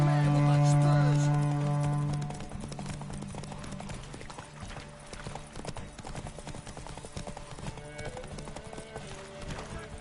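Horse hooves galloping in the video game Witcher 3, a fast rhythmic clip-clop that runs steadily and close, under an opening tone and some background game sound.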